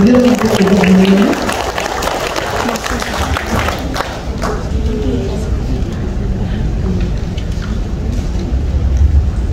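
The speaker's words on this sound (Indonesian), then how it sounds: "Kita kasih aplaus yang meriah untuk Ibu Amelia Yani." An audience applauds to welcome Amelia Yani with steady, dense clapping that fills the room. A voice is briefly heard at the start as the clapping begins, and the applause carries on strongly to the end.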